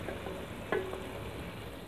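Julienned ginger and long-cut green chillies sizzle in a pan for egg keema, a soft even frying hiss with one sharp clink of a utensil partway through, and no talking.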